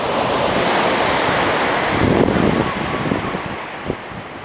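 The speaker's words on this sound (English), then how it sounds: "The ocean," Ocean surf rolls and washes onto a beach on Easter Sunday, a steady loud roar of breaking waves mixed with gusty wind buffeting the microphone.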